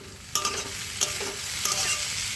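Watermelon rind curry is stirred in a frying pan, giving a few scraping strokes of the spatula over a soft, continuous sizzle. The sound is close and fairly quiet, and no one speaks.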